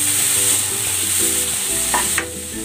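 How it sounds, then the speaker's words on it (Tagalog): Tomato sautéing with a piece of chorizo de Bilbao in a hot pan for chicken pochero, a loud close sizzle with stirring scrapes and a sharp clack near the end. "Gigisa ko na rin tong kamatis."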